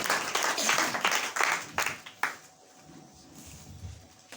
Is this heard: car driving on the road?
no